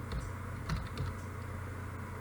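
Someone types on a computer keyboard while entering a command on a Cisco network switch, a quick run of light, close clicks and taps over a low steady hum, with no talking.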